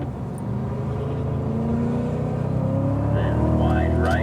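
A Cadillac CTS-V engine pulls hard on the COTA race track, its deep rumbling note rising steadily in pitch as it accelerates, loud and close inside the car, with a voice talking over it.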